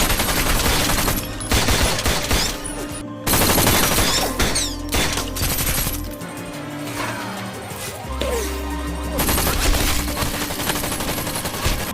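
Sustained exchange of gunfire in a crime thriller shootout between a police officer and a gunman, with rapid bursts and single shots firing loudly and continuously alongside crashes and dense action-scene noise throughout.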